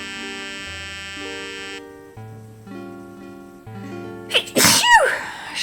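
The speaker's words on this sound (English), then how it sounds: "I have to sneeze." A loud, close sneeze bursts out near the end after a stretch of steady electronic buzzing tones, with no talk around it.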